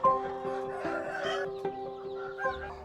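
Chickens clucking steadily on a poultry farm in Bungoma, Kenya, with around a thousand birds: a dense, continuous chorus of overlapping clucks and calls, close and fairly loud, with no talk.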